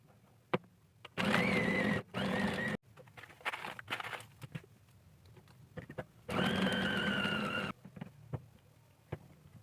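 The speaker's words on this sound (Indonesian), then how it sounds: "masukkan terus secara bertahap es batunya sampai selesai sambil terus di blender" A small blender crushes ice cubes, grinding in two loud, steady bursts of a few seconds each, separated by a quieter pause with faint clicks.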